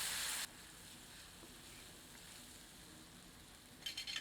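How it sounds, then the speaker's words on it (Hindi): Ginger garlic paste frying in a kadhai on low heat, a soft steady sizzle after a brief louder burst at the start, with a short bright crackle near the end. "इसे 2 मिनट धीमी आंच पर भूनते हैं।"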